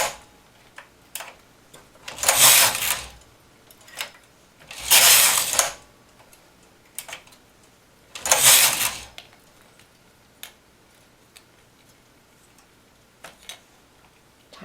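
A domestic knitting machine, its carriage pushed across the needle bed in three loud swishing, clattering passes, with scattered sharp clicks and ticks of needles and levers between them, no talk.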